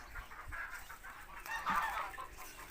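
Chickens in a coop at a rural family home, giving a few close clucks and short honking calls in a brief burst, with no voices over them.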